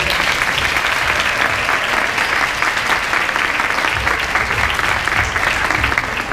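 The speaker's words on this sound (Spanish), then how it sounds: "Fuerte el aplauso para ellos." Applause from a seated audience at a children's modelling casting event: dense, steady clapping that holds at an even level throughout, with no talk over it.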